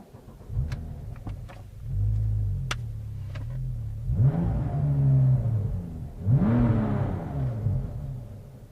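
Porsche 996 Turbo accelerating hard after an ECU tune, heard from inside the car as two strong rising engine surges with gear changes, loud and close, alongside light ticking and cabin noise.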